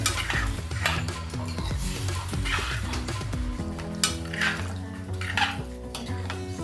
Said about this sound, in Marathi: आता हे वांग शिजण्या इतपतच मी पाणी ओतते. हे चांगलं हलवून घेते आता